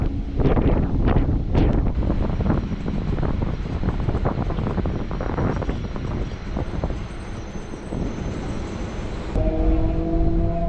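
A Chennai suburban train from MGR Central runs toward Pattabiram, its rumble heavily buffeted by wind on the microphone, ending with a steady tonal hum near the close.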